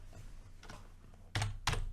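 Typing on a computer keyboard: faint soft key taps early, then two sharper, louder clacks close together near the end.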